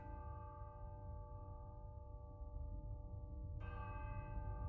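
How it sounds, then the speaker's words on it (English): Church bells ring with a sustained, resonant hum of overlapping tones, fairly faint and steady, with a brighter strike adding fresh shimmer near the end. "The bells ring as monks chant and play drums."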